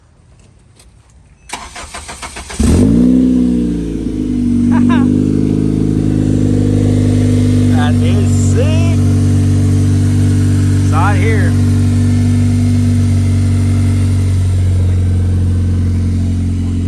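A Honda Civic engine cranks and fires up, then settles into a loud, steady running drone with a few brief blips of revving close by, while people talk over it.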